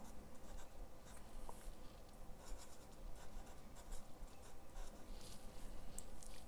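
A marker draws a small flower on paper, its tip scratching and rubbing in steady, continuous strokes. The sound is faint and close, with no voices.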